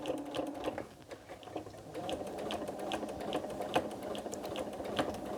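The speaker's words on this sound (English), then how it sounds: "I'm just going to stitch again" A sewing machine stitches across a quilted Santa cookie rug, its rapid, even needle clatter running close and continuous throughout.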